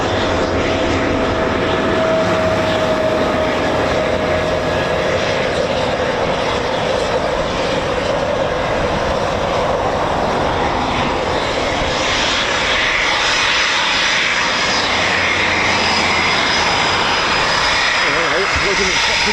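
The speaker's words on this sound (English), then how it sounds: "Typhoons coming back." Eurofighter Typhoon FGR4 jets fly over with a broad, loud engine roar that swells and holds for the whole stretch, while people talk nearby.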